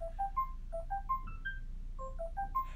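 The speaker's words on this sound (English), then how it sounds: "the sound of my phone ringing shatters the calm of the air" A mobile phone rings with a repeating melodic ringtone of quick rising electronic notes in short bursts, clear and close over a quiet low hum.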